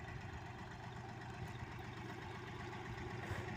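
Small tractor engine running steadily while working rough, stony soil for tomato planting, a low continuous rumble heard from some distance, quiet and unbroken.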